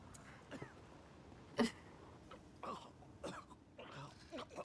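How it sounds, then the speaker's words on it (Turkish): A character coughs in the horror video game The Evil Within, several short, rough coughing bursts that are fairly faint and spaced across a few seconds. "Bak öksürük duruyor."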